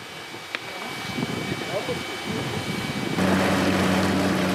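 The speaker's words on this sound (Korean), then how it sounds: "모터가 돌기 시작하자 느릿하게 앞으로 나아가는 2층 뗏목." The motor of a two-story raft boat on a Brazilian rainforest waterway starts up, turning into a steady, loud drone that sits over earlier rustling and ambient noise.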